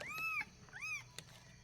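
Kittens, one black and white and one black, give a few thin, high meows close by, two rising-and-falling cries and a brief third squeak in an otherwise quiet room.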